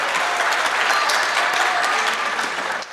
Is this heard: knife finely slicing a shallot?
no